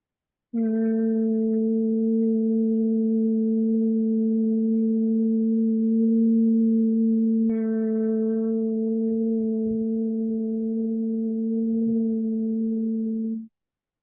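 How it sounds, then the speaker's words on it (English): A steady, low humming exhale by one voice in bee breath practice, held evenly for several seconds, then a brief breath and a second long hum carrying on at the same pitch. "as you exhale, creating a hum."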